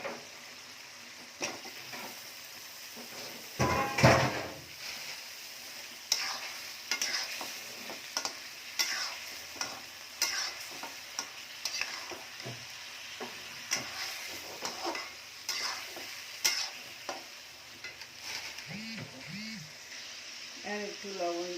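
Hog plums tossed into a pan of fried onion and garlic, with a soft sizzle beneath repeated stirring scrapes and clinks of a spatula running throughout.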